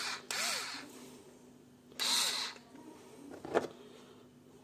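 Small electric screwdriver from a tool kit, used while installing an mSATA SSD in an old laptop, whirring in two short close bursts with a faint click between, over quiet room noise.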